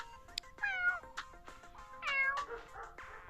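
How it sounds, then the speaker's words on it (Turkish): Several cats meowing close by, a handful of distinct rising and falling meows spaced across a few seconds in an otherwise quiet space, with no talking. "Gelin size dediğim kediler burada"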